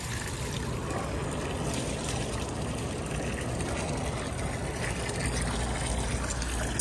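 Water rushes through a channel toward a river as a steady, loud, broadband wash of flowing water, close and continuous, with no one talking over it.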